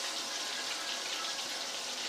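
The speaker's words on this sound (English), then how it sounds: "in the interim, I poured something yummy to drink." Liquid poured into a glass in a home kitchen, a steady continuous splashing hiss lasting about two seconds, fairly faint and with no talking over it.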